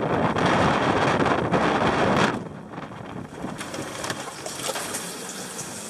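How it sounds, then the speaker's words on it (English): Strong wind roars over a sailboat at sea in the Bahamas, a loud, steady rush of air and water. It buffets the microphone heavily at first, then eases to a lower, still constant blustery wash. "The winds are howling."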